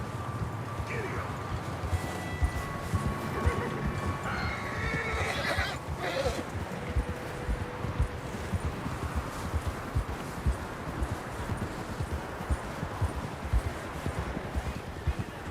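Horse riding in the video game Red Dead Redemption 2: a horse whinnies loudly near the start, then steady clip-clop hoofbeats continue at a brisk rhythm over rustling ground, with brief spoken lines in between.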